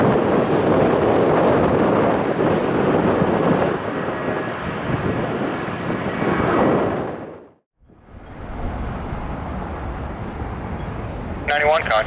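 Jet airliner taking off from runway 21 right at Detroit Metro Airport, a loud steady roar close by that swells and then cuts off sharply before resuming, with wind buffeting the microphone.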